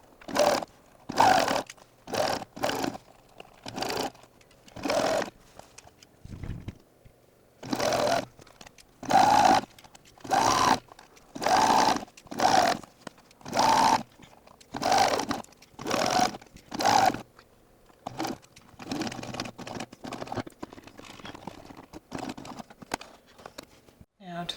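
A sewing machine stitching a shirt neckline, running in repeated short bursts with brief pauses between them, fairly close and steady throughout.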